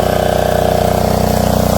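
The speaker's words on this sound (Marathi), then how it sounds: "आता इकडे बघू शकता आपण मशीन चालू करून घेतलं इथं" An engine-driven water pump runs steadily at a well at a brick kiln, a loud, even mechanical drone with a regular pulsing beat throughout, no voices.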